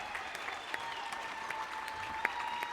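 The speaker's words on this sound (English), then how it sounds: "she gets a standing ovation from the crowd" Basketball crowd at a women's college game on senior night giving a standing ovation, sustained applause with scattered sharper claps and cheers, steady and fairly distant in a gym.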